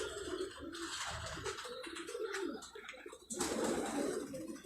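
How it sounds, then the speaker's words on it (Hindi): A Mian Nazir bloodline pigeon on a rooftop loft coos in soft, throaty rolling phrases, close by, with a broad noisy background and a brief dip before the cooing resumes louder. "ये मियाँ नज़ीर वाला कबूतर इसमें लगा हुआ है।"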